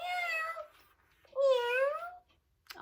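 A pet cat meows twice, two clear drawn-out calls separated by a short pause, close and fairly loud with a quiet background.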